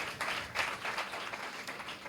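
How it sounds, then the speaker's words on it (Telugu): An audience claps for Jesus at a Telugu Christian sermon, a dense, steady patter of many hands sustained throughout, loud and close with no speech over it. "కొట్టు చప్పట్లు గట్టిగా యేసేకి"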